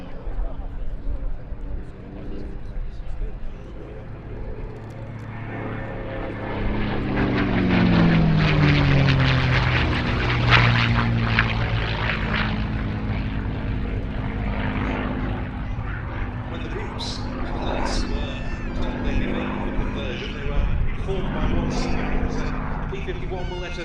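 P-51 Mustang with a Packard Merlin engine flying at an airshow, a propeller roar swelling as it passes close, its pitch dropping, then fading to a distant drone under an ongoing voice.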